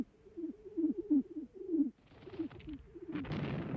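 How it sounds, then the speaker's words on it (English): Carrier pigeons in mobile pigeon lofts at the Battle of the Somme coo in a steady run of soft, low, throaty calls. Near the end, a rising rustle of wings and movement joins them. "Thousands of birds were held ready in mobile pigeon lofts like this."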